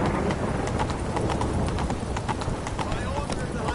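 Galloping hooves of a horse in the video game Witcher 3 pound out a fast, steady clip-clop rhythm throughout, loud and close, with a voice speaking over the hoofbeats.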